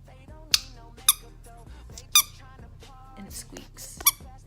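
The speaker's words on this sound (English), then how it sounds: "And it squeaks." A small rubber ducky toy squeaks four times in short, sharp, irregular bursts, close and bright, with soft speech murmuring faintly between squeezes.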